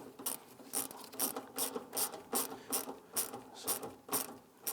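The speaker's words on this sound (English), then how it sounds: "We're going to do a crisscross pattern, tightening these down." A ratchet clicks in quick, regular bursts, about ten strokes, while snugging fuel pump module bolts on a 2013 Kia Soul. The sound is close but fairly quiet, a rhythmic ratcheting rasp with no voices.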